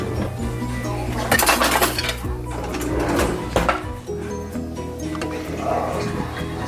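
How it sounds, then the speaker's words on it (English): Cutlery and pots clink and clatter close by in a home kitchen while beans boil for barbacoa, a spoon being fetched with several sharp metallic knocks and rattles. "I'm gonna get a spoon."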